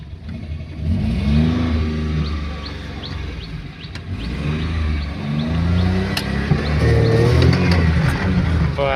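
A car engine revs repeatedly as the driver gives it speed, pitch rising and falling in several surges, loud and close, with bits of talk in between.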